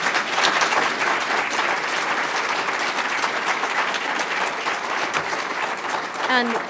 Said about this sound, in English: So let's give our panel a big round of applause.